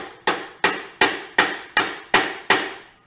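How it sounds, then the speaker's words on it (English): A hammer strikes the triple tree of a 1972 Honda CT70 during a rebuild, seven sharp metallic knocks spaced evenly and close, each ringing off quickly. "Take a hammer."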